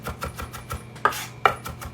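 A knife chops onion finely on a board, with soft rhythmic taps and two sharper, louder strikes standing out, close and alone with no talking.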